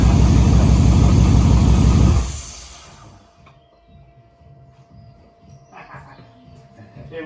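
A 1969 Ford Mustang fitted with an AMG engine runs loudly for about two seconds, then cuts off abruptly, leaving faint background sounds and soft indistinct noises.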